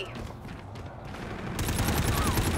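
Automatic gunfire in a Call of Duty-style shooter, rapid bursts growing louder in the second half over game sounds and brief voice chatter.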